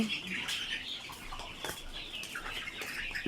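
Egyptian Fayoumi chicks, vaccinated and being raised as parent stock, peep continuously in a high-pitched chorus, with some fluttering and occasional louder chirps nearby.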